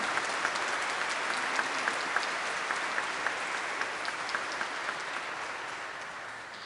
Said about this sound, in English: if we can give a round of applause for class of 2025